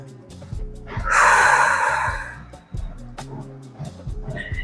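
A long breathy exhale through the nose during a quad stretch, a loud close airy rush lasting over a second, with a shorter breath after it over faint background sounds.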